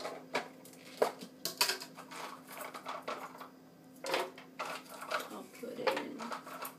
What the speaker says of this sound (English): Now I'm going to add some walnuts.